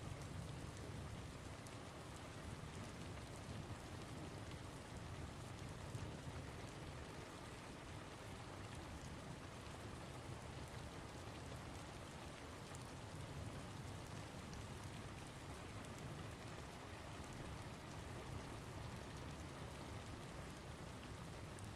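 Steady rain falls and patters on surfaces in a soft, even hiss that stays constant and fairly faint throughout, with no talking.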